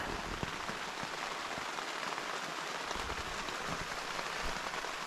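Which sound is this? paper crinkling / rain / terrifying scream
rain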